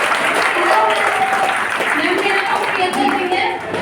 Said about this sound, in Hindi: एक बार ताली लगा दीजिए दोनों के।